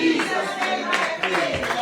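A church congregation claps hands during a Monday prayer and fasting service, a steady run of crowd claps under worship noise and voices.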